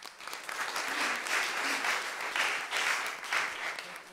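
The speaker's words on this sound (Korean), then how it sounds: "박수 한번 쳐주세요" A church congregation applauds during a Sunday morning worship service, steady broadband clapping lasting a few seconds with a faint voice briefly audible beneath.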